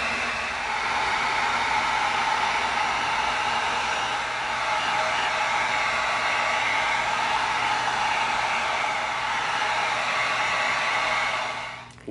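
A heat gun blows hot air over EVA foam in a steady, close whooshing hiss that runs unbroken for about eleven seconds before cutting off.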